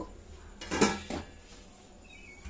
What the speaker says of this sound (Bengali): বসিয়ে দিয়ে এখন আমি ওপর থেকে একটা ঢাকনা দিয়ে ঢেকে দেব।